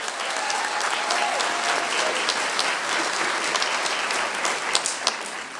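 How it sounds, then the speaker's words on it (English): Audience applause at a school class night, a steady dense wash of clapping from a large crowd that stays loud and even throughout, with no voices standing out. "let's put our hands together and offer a hearty round of applause for our superintendent of schools, Mr. John Robidoux"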